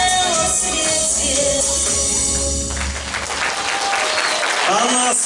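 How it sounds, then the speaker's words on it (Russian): A concert audience at a music studio's anniversary show breaks into applause as music ends, the clapping swelling into a loud, dense wash while sustained instrumental tones fade beneath it and a voice speaks near the end. "Громкие аплодисменты."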